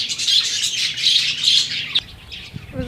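Budgerigars in an aviary chirp and chatter in a dense, continuous twittering flock, close and fairly loud, ending with a brief flutter and softer calls.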